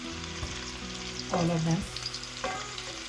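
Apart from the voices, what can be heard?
kofta being fried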